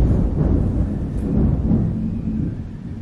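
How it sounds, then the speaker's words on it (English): Low rolling thunder rumbling in the distance at sunset, a soft, sustained murmur that swells slightly and fades over a few seconds. "Do you guys hear that thunder?"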